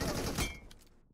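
A short, rapid burst of automatic gunfire from the mobile shooter game Free Fire, loud and close, quickly dying away.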